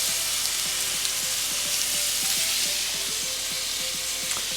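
Steak fries in garlic butter with a constant close, loud sizzle and crackle, over a faint regular low ticking underneath.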